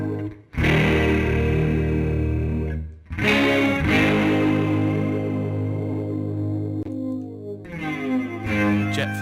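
Guitar chords played through a Line 6 Helix Native Courtesan flange, modeled on the Electric Mistress, sweep with a whooshing, swirling tone and distorted edge, ringing out in several strummed passages separated by short gaps.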